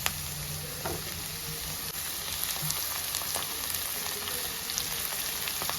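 Chopped tomatoes and onion frying in a pan for egg curry, a steady close crackling sizzle with faint pops throughout and no voices.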